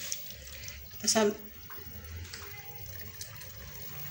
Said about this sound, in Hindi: इसमें अब हम वाटर शामिल कर लिए हैं जो कि है 1 लीटर